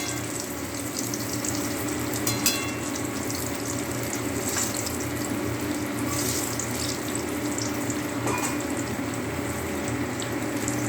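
Food frying in a pan gives a constant dense hiss that stays even and close from start to finish, with a few faint clinks and no voices.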